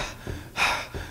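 A few heavy, breathy gasps for air come close and moderately loud, with short pauses between them.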